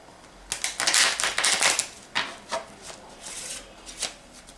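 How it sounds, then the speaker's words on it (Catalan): Playing cards riffle together American-style in a quick burst of rapid flutter and slaps, followed by several shorter riffles and taps, close and clear without talk. "També podem mesclar a l'americana."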